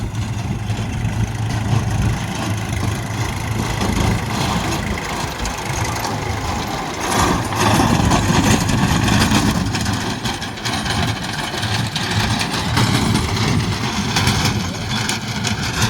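A new Harayo tractor with a Moba autosteering system runs steadily and loudly throughout, a continuous low rumble with slight surges in intensity partway through.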